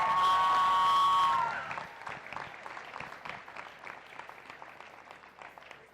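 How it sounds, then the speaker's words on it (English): A sustained electronic tone rings for over a second before audience applause for a group of women takes over at a signing day ceremony, a moderate, fairly distant clatter of clapping that slowly thins and fades. "let's give these ladies one big giant round of applause"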